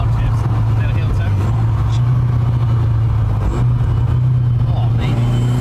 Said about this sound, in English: Let me do some little downshifts.